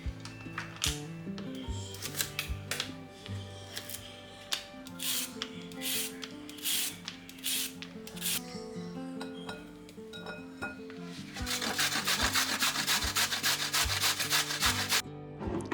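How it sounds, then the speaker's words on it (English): Carrots rubbed against a grater in steady repeated rasping strokes, close and fairly loud, shifting to a faster, denser grating rhythm toward the end, with faint clinks and no talking. "peel the carrots and grate them"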